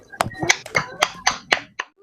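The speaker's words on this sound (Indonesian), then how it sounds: "Tepuk tangan dulu untuk kita semua." Rhythmic group clapping in a school lesson, about eight crisp, evenly spaced claps in quick succession, close and clear against a quiet room, ending with a softer final clap.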